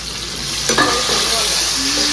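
Onions fry loudly in a pan for mutton biryani, a close, steady sizzle with a brief spoon scrape and stir partway through; no one speaks.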